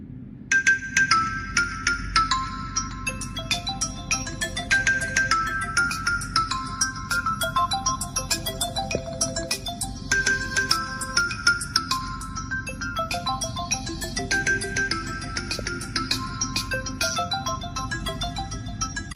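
A bright, tinkling ringtone melody plays loudly from the dual speakers of a Tecno Spark 20 phone, repeating its chiming phrase for the whole stretch with no talking.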